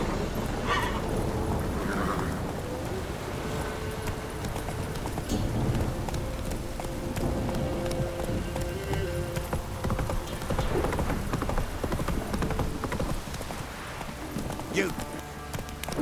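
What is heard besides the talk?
horse Roach galloping, hooves clip-clopping, in The Witcher 3 video game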